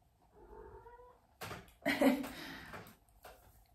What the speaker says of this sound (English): my little cat